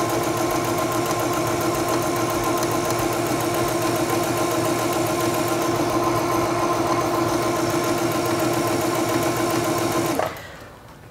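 A Singer Stylist 7258 sewing machine runs a straight stitch with a fast, even, close mechanical whir and needle chatter that holds steady before stopping abruptly near the end.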